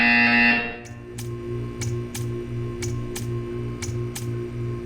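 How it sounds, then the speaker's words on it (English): An electronic alarm buzzer from the video game Portal 2 sounds briefly, then a steady pulsing hum runs under a series of regular sharp ticks. "You will hear a buzzer. When you hear the buzzer, stare at the art."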